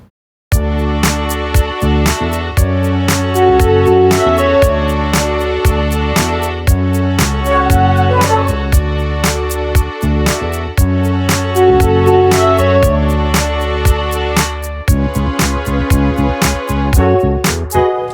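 A sustained Dorian chord progression plays on an instrument, full and loud, with chords changing in steady rhythm for the whole stretch.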